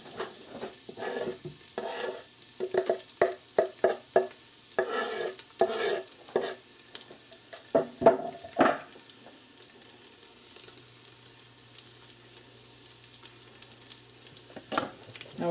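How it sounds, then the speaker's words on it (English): Garlic hits hot olive oil in a pan for tomato sauce, giving a close sizzle with a run of rhythmic stirring taps and scrapes early on, then settling into a quieter steady fry. "now that the oil is good and hot, we're going to add the garlic"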